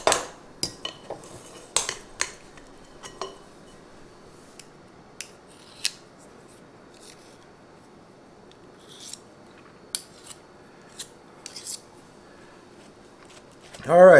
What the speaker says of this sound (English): I'm going to scrape off what we can